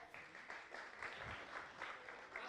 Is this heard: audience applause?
yes